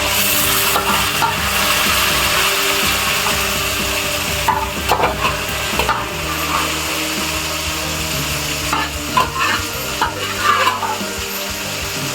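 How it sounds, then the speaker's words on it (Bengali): Pork meat frying in a wok, a loud steady sizzle with scraping and stirring clatter throughout and no voices. "মাংস ভাজা হয়ে গেছে, এবার কড়াইতে পড়ে গেছে।"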